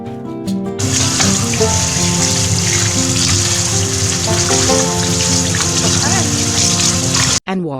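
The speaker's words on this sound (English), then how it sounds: "wash it properly in running water" Running tap water pours and splashes steadily over fresh mustard leaves, loud and close, with a brief break near the end.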